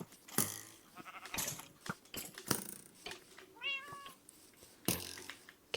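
A cat in the video game Minecraft gives several distinct meows and mews spaced across a few seconds, close and clear over quiet game sounds, with one drawn-out rising cry in the middle.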